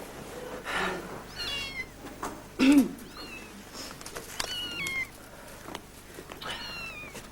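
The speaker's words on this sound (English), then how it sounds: "It's a kitten." A kitten meows repeatedly in short, high, rising cries spread across the stretch, fairly faint, with a few soft thumps and a brief low voice in between.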